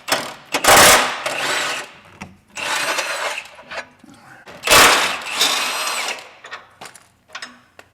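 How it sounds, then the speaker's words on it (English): A power tool spins out a bolt on a Honda Ridgeline winch bumper, giving two long whirring bursts and a few shorter ones with clanks and handling noises between them, loud and close. "I'm gonna go ahead and take that bolt out"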